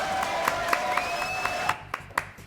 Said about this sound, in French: Applaudissements donc pour Eric Bellet.